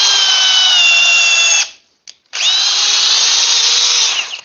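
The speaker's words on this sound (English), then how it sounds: "I love this drill, by the way." Ridgid cordless drill driving a fastener, its high motor whine running steadily for about a second and a half, cutting out briefly with a tiny blip, then spinning up again for another two seconds before winding down, loud and close.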